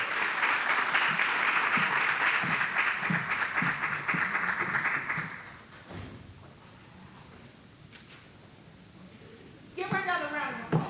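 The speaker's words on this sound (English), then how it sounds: "Let's give her a round of applause." Applause from an audience at an advisory board meeting greets a school principal, dense clapping for about five seconds that fades into quiet room murmur, then a voice speaks near the end.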